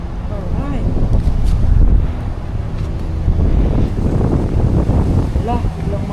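Low, blustery wind buffeting a microphone, rumbling steadily for several seconds with faint talking mixed underneath.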